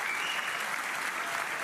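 A packed hall at the 2024 Ballon d'Or ceremony breaks into continuous applause, a dense even wash of clapping from a large crowd throughout the short moment.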